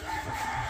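A chicken gives a brief, loud, close crow mixed with clucking, heard alone for under a second.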